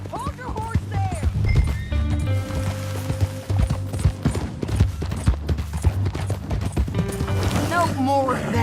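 Horse hooves clip-clop in Red Dead Redemption 2 in a steady rhythm under a voice, with game music and a brief whinny in the background.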